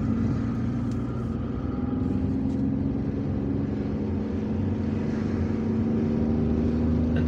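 A car drives along a busy street in Algiers, its steady engine hum and road rumble continuous and close throughout, with no talking.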